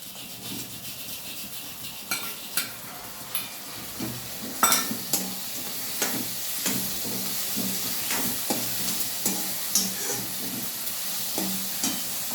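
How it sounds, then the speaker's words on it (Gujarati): Onions sautéing in hot oil in a pan for bhaji paratha, a continuous sizzle and hiss broken by repeated scraping and tapping of a spoon as they are stirred, close up with no talking. "ડુંગળી સતરાઈ જઈ છે એટલે હવે આપણે અંદર ડુંગળી એડ કરી દઈશું"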